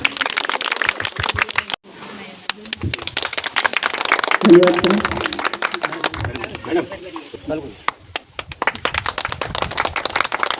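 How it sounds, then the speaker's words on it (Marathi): Audience applause breaks out at a women's honouring ceremony and Paithani game event in Bagwadi, Kunkavale: a loud, dense patter of clapping that fills most of the stretch around a brief spoken thanks. "जोरदार टाळ्या झाल्या पाहिजे."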